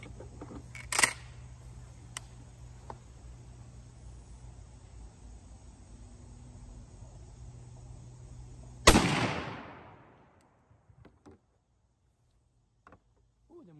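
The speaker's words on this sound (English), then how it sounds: "we'll shoot that 15 pellet Winchester. All right, guys, we're gonna shoot that 15 pellet, 3-inch, out of the kicks" A shotgun firing a 3-inch, 15-pellet Winchester buckshot load through a Kicks Buck Kicker choke tube outdoors: one loud, sharp blast that decays quickly into quiet, after several seconds of low background hiss.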